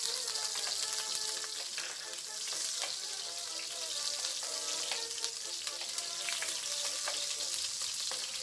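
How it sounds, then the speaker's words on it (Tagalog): Ginger sautéing in cooking oil in a preheated pan while preparing Bicol Express, a steady bright sizzle and crackle throughout with occasional stirring clicks, no talk. "idagdag at isutay natin ang ating luya"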